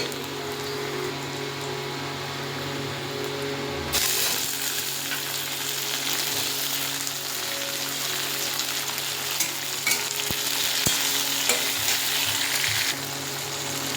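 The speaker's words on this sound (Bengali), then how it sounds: "পেঁয়াজটা মোটামুটি ভাজা হয়ে গেছে এবারে টমেটোগুলো দিয়ে দেবো" Onions and tomatoes fry in a pan for a chicken and cabbage curry, making a continuous close crackling sizzle that swells louder after a few seconds, with a couple of sharp clicks near the end.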